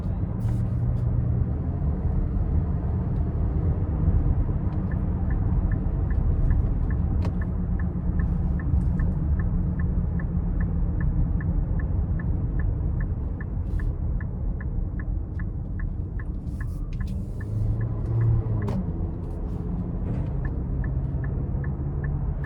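Cabin of a 2026 Nissan Murano SL AWD with its 2-liter engine, driven with a low, steady road rumble and engine drone, a faint repeating tick over it, and someone talking throughout.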